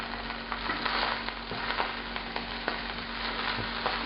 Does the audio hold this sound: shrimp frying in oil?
yes